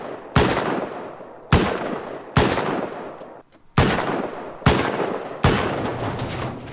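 Six loud, evenly spaced gunshots ring out in the video game Rust as a player fires at a turret, each sharp crack trailing off into a brief echo.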